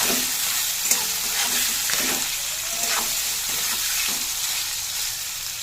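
Boiled, drained soybean chunks frying with bay leaf and whole cumin, a steady sizzle broken by rhythmic stirring scrapes roughly once a second.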